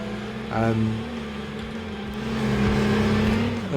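A Volkswagen Beetle engine in the Dreamcast off-road racing game 4X4 Jam, a steady droning hum that rises slightly as it revs, loud and continuous throughout with a brief higher tone near the start.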